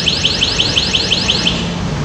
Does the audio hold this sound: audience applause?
no